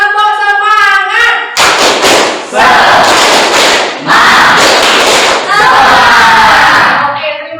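High school students in a classroom doing the tepuk semangat chant, loud rhythmic bursts of unison clapping mixed with shouted chanting, following a brief spoken cue.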